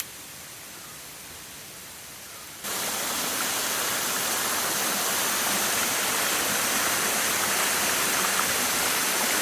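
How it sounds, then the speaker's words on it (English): Dense roar of a secluded Sri Lankan waterfall, quieter at first and then jumping to a loud, steady rush that continues without letup. "Yet another waterfall without a name."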